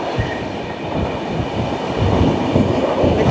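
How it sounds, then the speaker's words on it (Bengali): The Kriya Yoga Express, running from Howrah to Ranchi, rolls along the rails as the train takes a curve: a continuous loud rumble with rhythmic wheel clatter, heard from inside the coach. "ট্রেনটা কার্ভ নিচ্ছে দেখুন"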